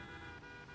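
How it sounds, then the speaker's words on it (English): A car horn in the BeamNG Drive driving game sounds one steady, sustained honk that holds at even loudness for under a second, with no talk over it. "One thing that works on my car, and about the only thing that works on my car, is the horn."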